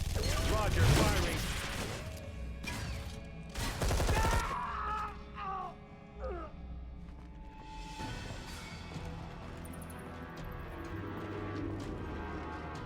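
Gunfire in the video game Deep Black comes in two short, loud bursts near the start, followed by quieter mechanical sounds and voices speaking over a low background hum.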